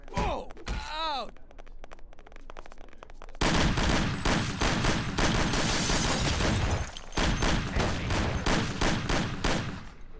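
Gunfire in a Mafia shootout, with a few sparse shots and groaning voices before a long, dense, loud volley of rapid bursts breaks out, pauses briefly, then resumes.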